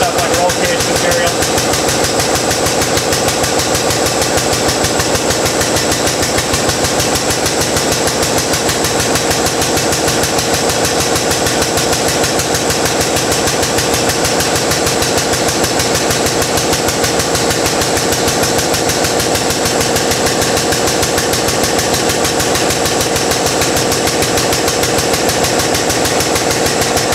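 A RogueFab Model 600 xHD tube bender slowly bends 2.0 solid bar, its motor drive droning loud and steady with a constant mechanical hum and vibration throughout.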